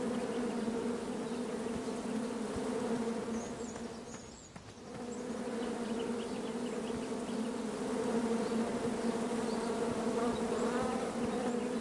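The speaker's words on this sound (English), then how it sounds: "Bees! I ruined the bees' day." A dense, steady swarm of bees buzzing in the video game King's Quest, a continuous droning hum that dips briefly midway and then resumes at full strength, with no voices.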